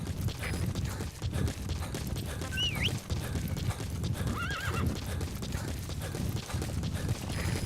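Rhythmic hoofbeats of a horse running at a steady pace in the video game Metal Gear Solid V: The Phantom Pain, with two brief whinnies rising over the clatter.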